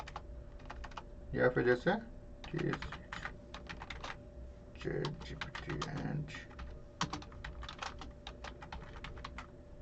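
Rapid clicking from a computer keyboard, with bursts of quick keystrokes over about ten seconds, heard under someone speaking Hindi.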